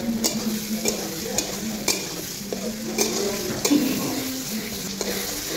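Tarka with salt and tomato fries in a pan with a steady sizzle while a spoon stirs and scrapes against the metal in irregular strokes, close and moderately loud.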